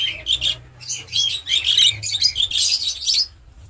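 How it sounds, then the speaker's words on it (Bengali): A pet cockatiel at a bird-selling spot gives a run of shrill, chirping calls in rapid clusters, loud and near, with a low rumble underneath and no voices. "এই যে পাখিটা দেখছেন কত সুন্দর।"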